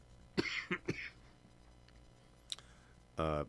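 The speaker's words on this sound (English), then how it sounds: "so I'll try to stop coughing" A few short, sharp coughs close by, followed by quiet and a brief voice at the end.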